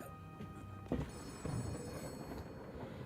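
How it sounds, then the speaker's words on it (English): A telephone rings in short electronic bursts indoors, fairly quiet, with faint background noise and no talking. "The office phone is ringing."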